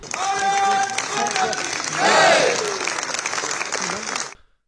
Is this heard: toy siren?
no